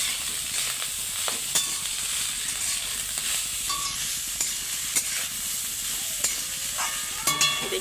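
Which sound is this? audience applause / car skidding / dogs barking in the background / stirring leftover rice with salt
stirring leftover rice with salt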